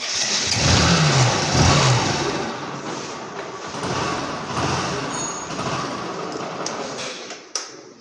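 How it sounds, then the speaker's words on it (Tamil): A motorcycle's electric self-starter cranks with the clutch lever held in, a sustained whirring, grinding drone close to the mic for most of the clip, easing off near the end with a final click. "கீயை ஆன் பண்ணிவிட்டு நான் வந்து இப்போ கிளச்சு சைடு லிவரை ப்ரெஸ் பண்ணிவிட்டு செல்ஃப் அடித்து காமிக்கிறேன்"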